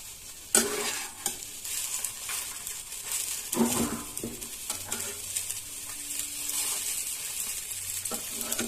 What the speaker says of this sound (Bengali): যেহেতু ডিপ ফ্রাই হচ্ছে না অল্প তেল দিয়ে হচ্ছে